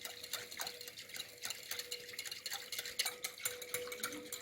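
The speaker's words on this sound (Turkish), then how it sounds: "Çırparak mayamızın erimesini sağlayalım." A whisk beating dry yeast into two glasses of water in a glass or bowl, rapid rhythmic clinking and sloshing strokes repeating steadily throughout, close and fairly quiet.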